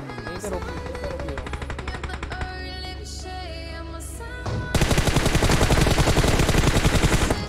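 Gunshots in a PUBG Mobile match, first as repeated single reports under game music and effects, then a loud, dense stretch of sustained fire in the second half.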